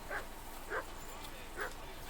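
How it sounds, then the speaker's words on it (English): A dog barks three times at a steady pace in the video game Kingdom Come: Deliverance II, moderately near, with a faint steady hum in the background. "Okay, the dog needs to shut up."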